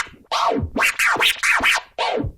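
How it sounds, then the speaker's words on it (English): Turntable rhythm scratch built from five baby scratches worked by hand on the platter with no crossfader, a quick run of swooping back-and-forth record sweeps, loud and close with no talking. "The rhythm scratch is made of 5 baby scratches."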